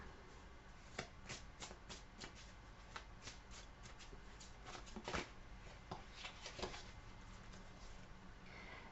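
Tarot cards being shuffled by hand in repeated crisp riffles and flicks, steady and fairly close, with no talking over them.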